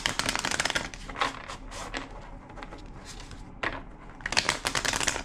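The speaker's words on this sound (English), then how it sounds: "Two more shuffles." A tarot deck being shuffled by hand, crisp riffling card bursts near and loud, pausing briefly in the middle before a final flurry of shuffling.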